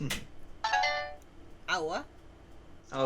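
A mobile phone ringtone sounds in short bursts of bright melodic tones, close and fairly loud, alternating with brief spoken exclamations.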